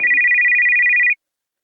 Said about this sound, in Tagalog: biglang mag-ringtone yung messenger ko